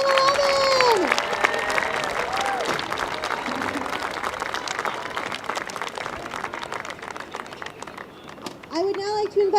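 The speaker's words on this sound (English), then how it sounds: "Big round of applause for our boys U16 Tournament 11" Applause at a field hockey U16 national championship award ceremony: a dense crowd clapping steadily for the full stretch, with a voice speaking over the start and again at the end.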